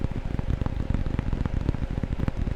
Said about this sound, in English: I think this one sounds the most like raindrops if I'm up here.